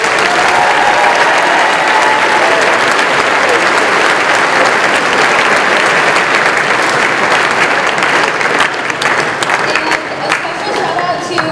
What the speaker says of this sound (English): give a round of applause for our faculty